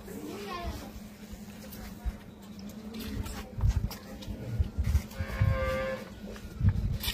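Holstein Friesian cattle on a farm, with moos and animal sounds heard among people talking nearby and some children's voices.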